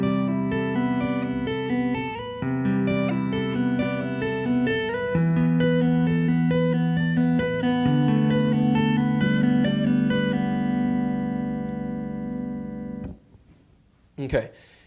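Slowed-down electric guitar layered melody: sustained, effected notes over low held tones, moving steadily, then stopping abruptly near the end, followed by a brief noisy burst.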